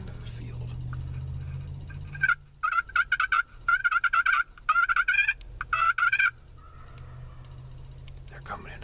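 Two or three wild turkey gobblers calling in the woods near a field, rapid rattling gobbles in repeated bursts that sound fairly close and loud over a steady low background hum, with a faint voice in the background.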